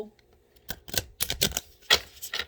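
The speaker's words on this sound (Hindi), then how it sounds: "ये मैं इस थिंकिंग से कार्ड को शफल कर रही हूँ" Tarot cards being shuffled by hand, a series of quick close riffling and snapping bursts in uneven clusters, with faint voice in the background.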